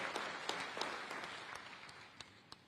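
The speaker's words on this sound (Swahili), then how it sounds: "Na tumpigie makofi sana Mheshimiwa Waziri kuwa hapa leo." An audience at an international mining-sector investment conference in Dar es Salaam applauds a minister. The clapping is moderately distant and fades over under three seconds, with a few louder claps standing out.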